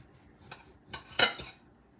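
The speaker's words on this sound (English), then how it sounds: "So let's cut into the steak." A knife cuts into a cooked venison steak done a little pink, producing a few close, short scrapes and clicks against the plate, with quiet pauses between them.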